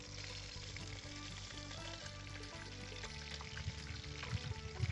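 Bhola fish frying in hot oil in a village home kitchen, a steady close sizzle with crackling bursts that grow louder and spikier toward the end, no voices.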